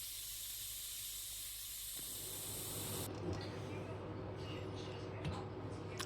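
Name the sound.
steam hissing from pressure cooker lid valves while cooking shurpa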